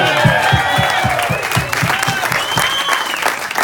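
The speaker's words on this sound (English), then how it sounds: "big round of applause for her" Loud crowd applause with rhythmic clapping and cheering, whoops and whistles rising over the steady clatter of hands.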